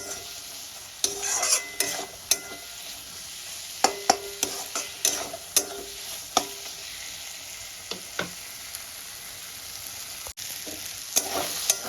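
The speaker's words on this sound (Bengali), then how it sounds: "আমি খুব ভালো করে কষিয়ে নিয়েছি পুরো মশলাটা আলুর সঙ্গে" Spice masala and potatoes fry in a pan for a Bengali kalibaus fish and potato dish, a continuous sizzle broken by repeated sharp scrapes and clanks of a stirring spoon, close up and without talk.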